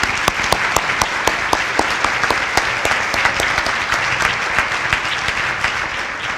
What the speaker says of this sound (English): Let's give all of our recipients a nice round of applause.